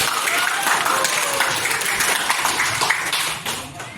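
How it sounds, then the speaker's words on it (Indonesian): Audience of school staff and students applauding a teacher, a loud sustained burst of many hands clapping that carries on for several seconds before tapering off at the end. "Beri tepuk tangan dulu untuk guru."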